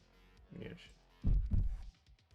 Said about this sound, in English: that's definitely a heartbeat